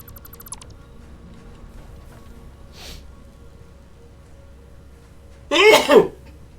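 A sudden sneeze bursts out near the end, loud and close, after a faint brief sound earlier amid a quiet room hum.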